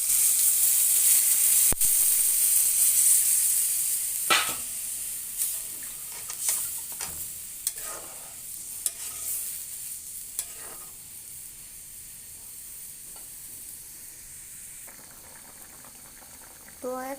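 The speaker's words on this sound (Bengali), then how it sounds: "আমি দিয়ে দিব পরিমাণ মতো পানি" Water poured into curry paste frying in a pan, a loud hiss at first that settles into bubbling and boiling, with scattered stirring clinks and a brief voice near the end.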